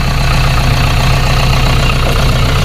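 An Isuzu 4BG1 diesel generator engine, still without its fan belt, idles loudly and close by with a steady, unbroken low rumble and no talking.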